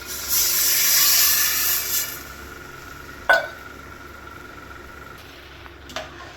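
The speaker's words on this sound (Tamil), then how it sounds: "மட்டன் வேக வச்ச தண்ணி வந்து அளந்து வச்சுருக்கேன்." Mutton stock water is poured into a cooking pot for biryani, giving a bright, steady hiss for about two seconds, followed by quieter kitchen sounds and a couple of light metallic clinks.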